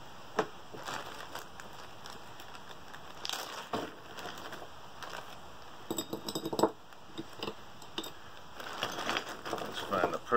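Ice in a clear glass of bourbon: scattered light clinks and knocks of ice against glass, some crunching, with people talking throughout.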